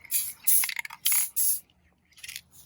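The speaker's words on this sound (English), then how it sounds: "I'm just going to spray the tops of these." Several short hissing bursts of an aerosol spray paint can, close and sharp, separated by brief pauses, with a few faint clicks between them.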